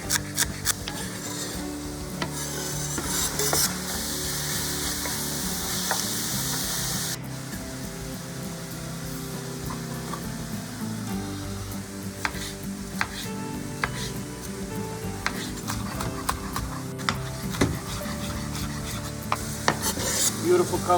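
Diced onions and celery sizzle steadily in a hot pan for a long stretch, with a brighter burst of frying early on and frequent scrapes and clinks from stirring throughout.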